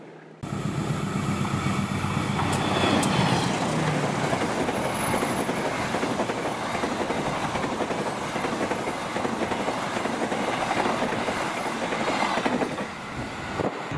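A train rolls through Klari railway station in Indonesia, a loud, continuous rumble of wheels and clattering carriages with occasional high wheel squeals, sustained close by until it fades at the end.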